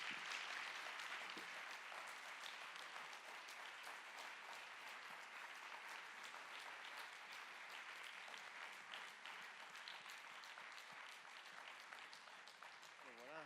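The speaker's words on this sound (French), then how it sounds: "vous pouvez l'applaudir très fort" A conference audience applauds a speaker at a talk on social justice: sustained, dense clapping that holds steady for over ten seconds at an even level, with no speech over it.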